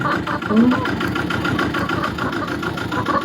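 A tractor engine runs at a steady, close-up idle on a Polish farm during a hay bale pickup with a borrowed trailer, its low throbbing drone continuous throughout.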